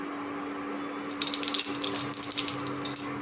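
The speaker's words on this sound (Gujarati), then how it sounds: "તેલ અને ઘી ગરમ થઈ ગયા છે એની અંદર રાઈ એડ કરીશું" Mustard seeds dropped into hot oil and ghee in a pan, a soft steady sizzle that breaks into a burst of crackling, spattering pops partway through, close and fairly quiet, no talking.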